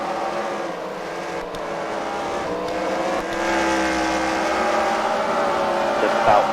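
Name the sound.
race cars driving around a track in a race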